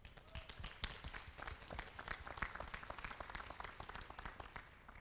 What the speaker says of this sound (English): I just want you guys to take 1 second to applaud everybody in this room to say good work for being here today.